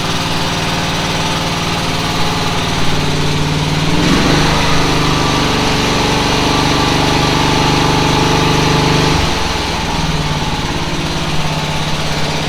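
A repaired Groundhog small engine with an armature magneto and stator runs steadily at a loud, even idle close by, no longer misfiring, with a slight shift in pitch partway through and no voices.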